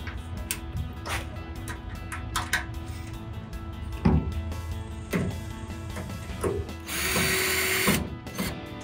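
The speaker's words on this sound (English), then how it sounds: "And then we just tighten these holes, that's it. Tighten the screws." A power drill tightens screws on LED tail lights for a 1999-2006 Chevrolet Silverado 1500, with short whirring bursts, clicks and handling knocks close by, then a longer steady whir near the end.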